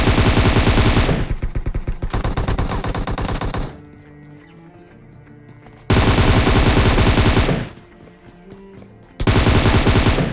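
Automatic gunfire in PUBG, loud close bursts of rapid machine-gun fire alternating with quieter gaps, two long volleys separated by a lull with faint game sounds.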